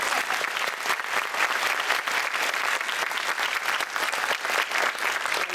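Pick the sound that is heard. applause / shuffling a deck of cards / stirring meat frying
applause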